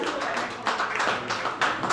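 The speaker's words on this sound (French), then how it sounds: "On les applaudit bien fort." An audience at the Fourchette d'or 2017 inauguration in Brussels applauds a traditional ribbon-cutting, a thick continuous wash of hand clapping from many people, close and loud, swelling in a couple of brief surges.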